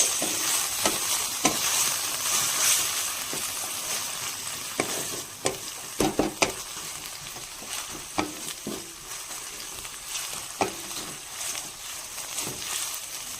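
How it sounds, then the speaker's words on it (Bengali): Onion, green chilli and ginger-garlic paste fry in oil for a Bengali prawn and pumpkin ghonto, with a steady close sizzle broken by scattered scrapes and knocks of a spatula stirring the pan. "এবার মশলাটাকে ভালো করে ভাজবো"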